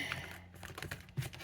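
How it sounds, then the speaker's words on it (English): A stiff deck of cards being shuffled by hand, producing a dense run of close, soft riffling clicks and light flutters over about a second and a half. "This is a hard deck to shuffle."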